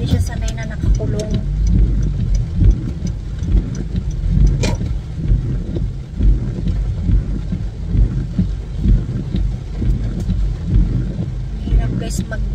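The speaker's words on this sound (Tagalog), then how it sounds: "Lakas ng ulan." Steady broadband rain roar mixed with a low engine rumble inside a moving car, loud and continuous, with occasional muffled voices underneath.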